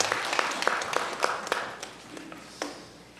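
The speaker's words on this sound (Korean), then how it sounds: "함께 영광의 박수 올리겠습니다" A church congregation claps in scattered, distinct hand claps during a Korean Advent Sunday service, the sharp claps thinning out and fading over about three seconds.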